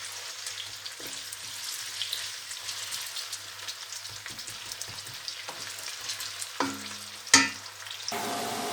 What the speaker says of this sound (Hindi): अब हम इसको थोड़ी देर भूनेंगे।